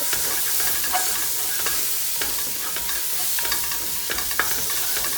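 Dried oregano and thyme toasting in a hot pot for homemade tomato pasta sauce, a soft steady sizzle broken by scattered light scraping stirs, close and alone with no talking.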